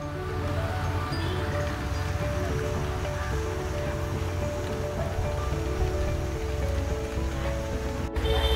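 Rain falls outside in a steady, even hiss that carries on unbroken beside an outdoor wood fire stove, with no talking.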